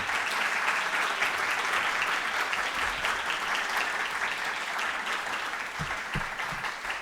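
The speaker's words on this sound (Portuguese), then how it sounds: "Salva de palmas, gente, para eles." Audience applauding student singers at an education conference, sustained dense clapping from a large crowd that stays even and fairly loud for several seconds before easing slightly.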